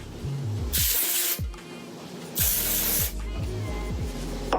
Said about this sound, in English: Now I'm going to put the dry shampoo on this side, and I'm just going to spray it on my roots.